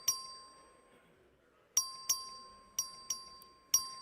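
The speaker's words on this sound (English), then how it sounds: "The clerk will ring the bell." A clerk rings the voting bell in the Texas House of Representatives chamber. About seven bright, sharp dings sound at uneven intervals, each ringing out and decaying in an otherwise quiet room.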